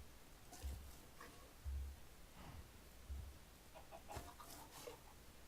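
Quiet, intermittent hen clucking from Minecraft, over a soft hiss, a few short low clucks spaced a second or so apart, with no talking.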